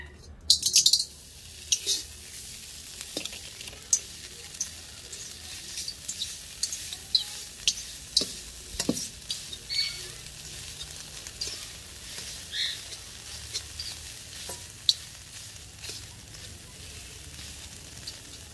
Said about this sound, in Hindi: और इनको आप अगर चाहें तो हाथ के साथ मैश कर लें, या आप कढ़ाई में डालने के बाद चम्मच से मैश कर सकते हैं।